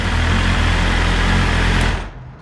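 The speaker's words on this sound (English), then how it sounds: "the engine's a little quieter, I think maybe because it's a little more enclosed" A new 2023 BMW M 1000 RR superbike engine idles loud and close with a steady, slightly ticking hum before cutting off abruptly near the end.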